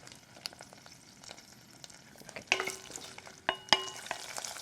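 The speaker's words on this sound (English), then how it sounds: "we're simply going to cook this, pressing the head so that some of that orange tamale comes out" Shrimp heads frying in oil as they are pressed in the pan: a faint sizzle at first, then louder crackles and sharp spatters bursting out near the end.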